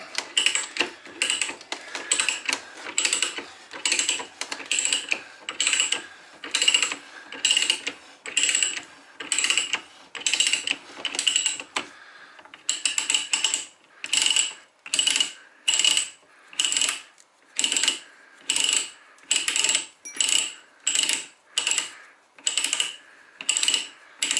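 A ratcheting pipe threader works 3/4 inch black pipe in steady, evenly spaced bursts of metallic clicking, close and moderately loud, with a short pause midway before the regular ratchet strokes resume.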